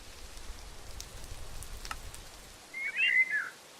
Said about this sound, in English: Getting kind of wet in the rain, aren't you?